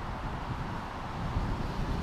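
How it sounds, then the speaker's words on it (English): Steady, low rumbling wind noise buffeting the microphone throughout, with a few stronger gusts toward the end and no voices. "it's fairly windy here today"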